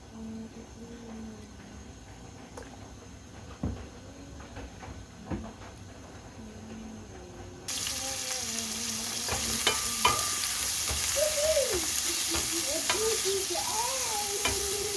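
Beef frying in oil with rice sizzles close by, starting quieter then jumping to a loud, dense hiss, with repeated stirring scrapes and clinks of a utensil throughout.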